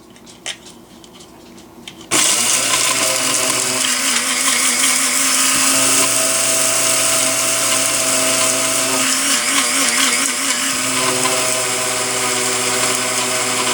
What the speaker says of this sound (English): You can hear the grinder slowing down, and that's exactly what that is. It's grinding down to a powder and it's packing.